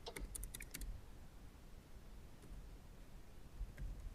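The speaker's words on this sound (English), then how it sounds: "let me repeat the command by using up arrow key from the keyboard" A few quick computer keyboard key presses, including an up arrow key, click near the start as a sparse cluster of light taps, followed by quiet room tone and one or two faint isolated clicks near the end.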